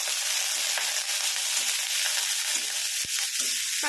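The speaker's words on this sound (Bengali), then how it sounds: "আর কয়েকটা রসুন দিয়ে এটাকে আমি একটু ভালো করে ভেজে নেব" Green chillies and garlic fry in hot oil with a continuous bright sizzle and crackle, close and fairly loud, broken by a few sharp pops and light stirring clicks, with no talking.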